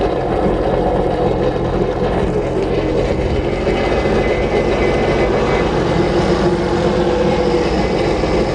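A Sea-Doo Rotax four-stroke jet ski engine idling out of the water, a loud, constant droning rumble with an even mechanical hum and no change in pitch throughout.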